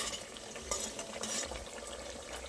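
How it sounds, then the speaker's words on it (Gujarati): A spoon stirs a teaspoon of ginger-garlic paste into hot oil with vegetables for veg biryani, with a soft, steady sizzle and quiet scraping strokes against the pan. "1 ચમચી જેટલી આદુ અને લસણની પેસ્ટ છે એને પણ આની સાથે જ મિક્સ કરી લઈશું"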